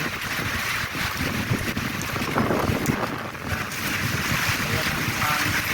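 Strong wind roars and buffets the microphone in a steady rush during heavy rain at night, with muffled voices faintly beneath it.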